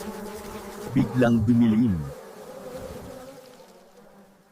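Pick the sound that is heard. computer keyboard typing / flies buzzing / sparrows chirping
flies buzzing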